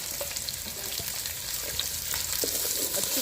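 Large, thickly cut onions frying in ghee for a masala fish curry give off a steady close sizzle, with faint scrapes and clinks of stirring throughout and no talk.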